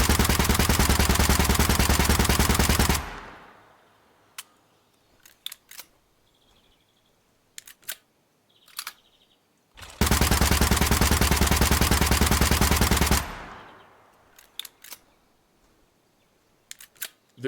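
Gunfire from a submachine gun in Gunsmith Simulator aimed at clay pigeons: two long, loud, sustained bursts of rapid fire separated by a quiet stretch with scattered sharp clicks and single reports.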